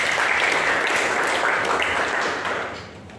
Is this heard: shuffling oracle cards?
no